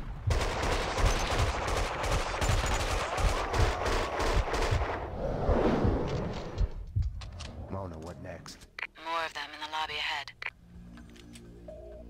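Rapid bursts of gunfire in the video game Max Payne 2, dense machine-gun style volleys for several seconds, then scattered single shots and game effects, loud and close, with someone talking over parts of it.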